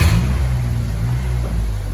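A tuned Mitsubishi Colt CZT engine idles and revs lightly as the car is driven onto a dyno, a close, steady low rumble that lasts two seconds.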